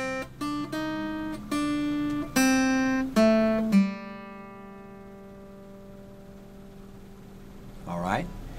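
Sesame Street theme melody picked on guitar as single plucked notes in a short rising and falling phrase, the final note ringing out and fading, followed by a brief faint sound near the end.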